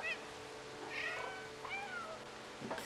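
A cat meows a few times in the video game Stray, with short rising and falling cries spread through the clip over quiet game ambience, fairly close and moderately loud.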